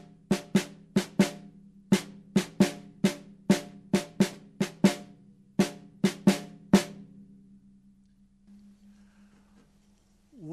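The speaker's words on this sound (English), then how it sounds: "If I was to just play it on the snare drum" A snare drum plays a syncopated solo figure: about seventeen crisp, close hits in uneven groupings over seven seconds, each with a short ringing tail, then a lingering hum and quiet.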